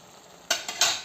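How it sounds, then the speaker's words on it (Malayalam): A spoon stirs curry in a pot as it boils, making three short, quiet scraping strokes close by in the second half, with a faint bubbling hush underneath and no talking. "ഒന്ന് പതുക്കെ ഒന്ന് പൊടിയാതെ ഇങ്ങനെ ഒന്ന് അടി ഒന്ന് ഇളക്കി കൊടുക്കുക അടി പിടിക്കാതിരിക്കാനായിട്ട്"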